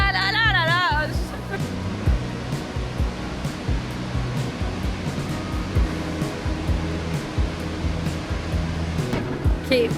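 A waterfall in Quebec roars steadily and close, a dense broadband rush that fills the scene, with a brief voice at the start and faint talk under the water.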